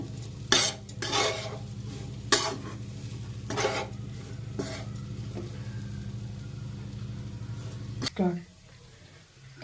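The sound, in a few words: dal and gram flour being roasted and stirred in a pan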